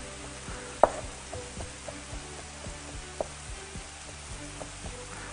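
Mushrooms and garlic sizzle in a pan while being stirred, a soft steady frying hiss broken by several light scraping knocks of the utensil, one sharper clack near the start.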